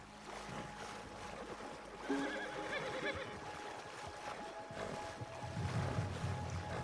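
A Morgan horse whinnies while swimming across water in Red Dead Redemption 2, the neigh rising over steady splashing and water movement, with a brief louder burst partway through.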